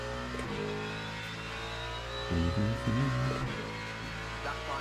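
A V8 supercar in a racing video game revs and accelerates, a steady engine drone with a couple of sharper rising revs midway, heard alone at moderate volume.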